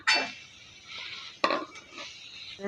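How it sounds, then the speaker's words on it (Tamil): Cooked rice added to a pan for fried rice and stirred, a few distinct metallic scrapes and clanks of a spoon against the pan with faint sizzling between, close. "இப்போ இதில் நம்ம சாதத்தை சேர்த்துக்கலாம்"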